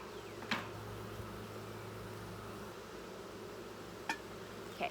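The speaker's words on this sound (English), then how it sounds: "Still have some bees up here in the honey super." Honey bees buzzing in a beehive honey super, a constant close drone with a few sharper bumps and knocks from the hive.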